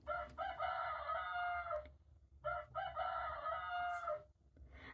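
A rooster crows twice from a farm-themed children's sound book, each long harmonic cock-a-doodle-doo call loud and close, separated by a short pause, with no talking over it.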